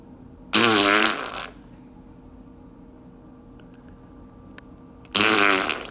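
A person imitates fart noises with their mouth: two loud, buzzy, rippling bursts about four and a half seconds apart, each lasting roughly a second, with quiet room tone between them.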